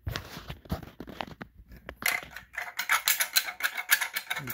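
Caulk gun ratcheting while used as a clamp on scrap wood, heard as a close run of rapid mechanical clicks and rattles that grow busier and louder toward the end, with no talking.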